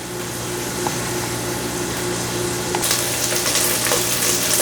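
Bacon and corn kernels fry in a pan over a medium-high flame, a steady dense sizzle that grows brighter and louder partway through, with occasional small pops and no talking.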